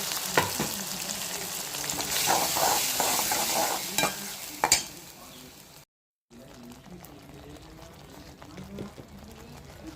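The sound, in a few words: ground paste frying with onions for peas masala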